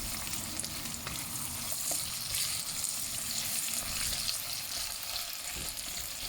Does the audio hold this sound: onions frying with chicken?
yes